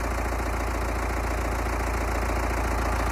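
A tractor engine idles close by at a building site for a hay barn, a loud, even diesel chug with a rapid steady pulse and no break, alone without voices.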